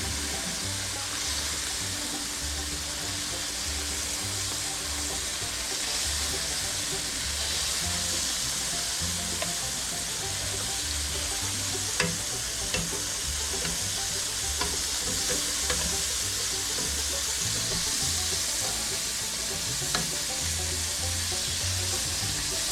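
Venison pieces browning in a hot pan give a steady, dense sizzle and crackle that runs unbroken throughout, with occasional small pops and stirring scrapes.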